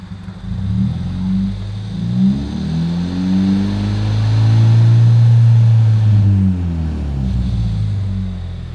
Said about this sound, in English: when I rev up